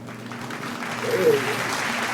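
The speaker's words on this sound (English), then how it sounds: "Get the hand clap." Studio applause from a radio interview, a short burst of hand clapping swelling in the second half under and alongside voices talking.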